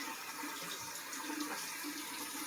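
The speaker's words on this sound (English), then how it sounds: "you just keep running water going" Tap water runs steadily into a kitchen sink while fresh, live spot prawns are rinsed, a continuous close splashing hiss with no voices.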